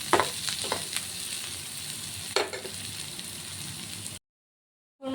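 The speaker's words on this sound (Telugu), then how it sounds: "ఆనియన్ వేసుకొని ఫ్రై చేసుకుందాం." Onion frying in a pan for Telugu-style arti kaya fry, a steady close sizzle with a few stirring scrapes and crackles, then a brief silence before the sizzle returns.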